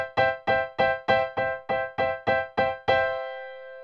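Grace CP-150 cabinet digital piano played with the soft (left) pedal down, giving a muted, quieter tone: nine evenly spaced repeated notes followed by a final held note that rings and decays, with no talking.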